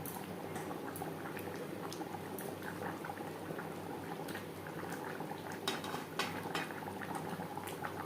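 Bengali fish curry gravy simmering in a pan, a constant close bubbling and sizzling with occasional small clinks, no voices.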